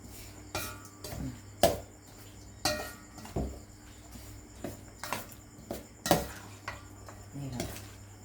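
Dishes and cutlery clink and clatter while sun-dried pork laab is plated, a string of sharp close metallic knocks and scrapes at an irregular pace, with faint talk in the background.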